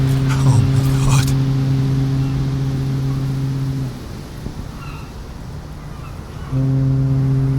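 Deep ship horns from civilian boats in the Gates of Hell war game sound loud and sustained in the foreground, fall away for a few seconds, then resume with the same steady tone.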